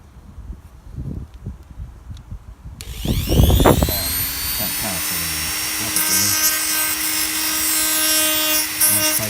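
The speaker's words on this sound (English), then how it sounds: "I'm trimming now. I'm using the Dremel." Dremel rotary tool trimming the grip on a Suzuki Hayabusa Gen2 motorcycle during an Oxford Hotgrips fit, a loud steady high-pitched whine starting abruptly after quiet handling noises and running continuously to the end.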